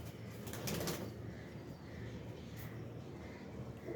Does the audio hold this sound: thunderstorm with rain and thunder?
no